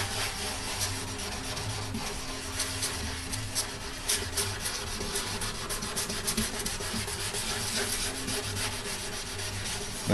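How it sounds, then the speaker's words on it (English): Unfinished wood is sanded by hand with the grain, a continuous close rasping rub in steady straight back-and-forth strokes, with no talk. "When you're sanding wood, unfinished wood especially, you don't swirl, you don't do any kind of thing except just straight back and forth like this with the grain."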